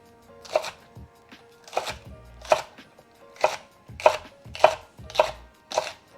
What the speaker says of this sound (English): Just like peeling onions and like chopping onions.